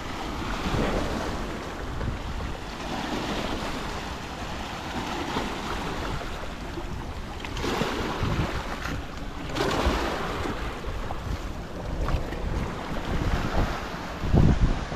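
Sea waves surge and wash against the shore under strong wind as a storm approaches, a continuous roaring rush with gusty microphone buffeting and a few louder swells building near the end.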